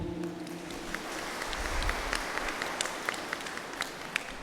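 A church congregation applauding at a diaconate ordination, soft, steady clapping from a gathered crowd, with a faint low tone at the start and a few crisp individual claps standing out toward the end.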